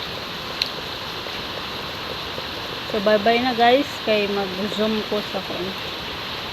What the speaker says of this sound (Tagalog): grabe kusog kay ulan dito guys